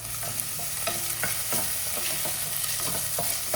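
Onions, green chillies and ginger garlic paste sauté in a pan with a steady, close sizzle of frying. Repeated scraping and stirring strokes from a spatula run through it, with no voices.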